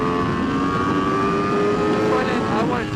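An Aprilia RSV4 RF superbike engine runs with a steady, loud droning roar and distinct whining harmonics, its pitch shifting and rising near the end. It is heard close up with no talk over it.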